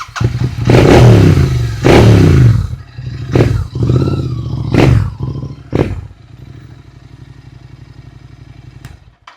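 A modified motorcycle fitted with a Red Rooster exhaust blasts through several loud, sharp revs, each ending in a crackle, before settling to a low, burbling idle.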